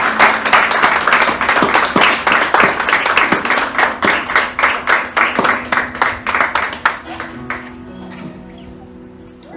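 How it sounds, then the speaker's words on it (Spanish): A church congregation claps in a loud, rhythmic burst of applause that gradually thins out and fades toward the end. "Denle un fuerte aplauso al Señor."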